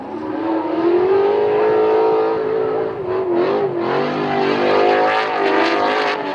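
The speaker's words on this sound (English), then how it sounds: "Drew Donovan leading out in the Milwaukee Tools S15, Cole trying to hunt down the V8 in front of him" Drift cars racing in tandem at Manfeild Raceway, a Nissan S15 leading with a V8 car chasing, engines screaming loud and sustained with rising and falling revs and a brief dip midway, no talk.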